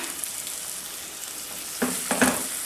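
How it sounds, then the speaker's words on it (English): Pineapple slices go into caramel in a frying pan for an upside-down cake. A low hiss holds for most of the moment, then a few short sizzling bursts and soft knocks come as the pieces are set down. "we place the pineapples inside the pan like this"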